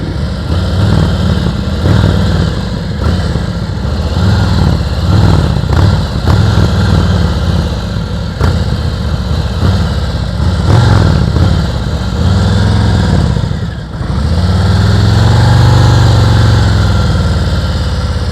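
A motorcycle engine idling and revving during advanced slow-speed riding practice, throttle blipped in short bursts over a steady mid-pitched rumble, with a brief dip near the end before the engine note swells again, close and loud.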